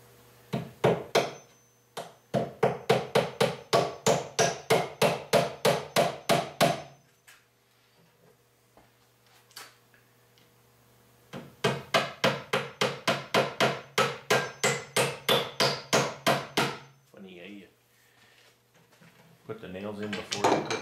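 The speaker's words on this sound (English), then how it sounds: "You miss a nail and hit your finger with that, it hurts a whole lot less than a standard size hammer." Small hammer tapping nails into wooden platform bed parts, with long bursts of quick, sharp, evenly spaced strikes, a pause, then another fast run of blows, close and loud.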